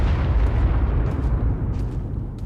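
A deep, rumbling blast in the game ARK Primal Chaos, a heavy low boom that rolls and slowly fades, loud and alone with a few faint sharper crackles toward the end.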